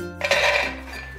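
Peanuts poured into a hot pan for dry roasting over high heat, a brief rattling clatter of nuts against metal that quickly settles into a faint rolling rustle, close and alone with no voices.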